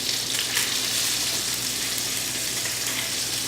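A pesto-coated salmon fillet fries in oil in a pan, giving a constant bright sizzle close by with a few light crackles and no voices.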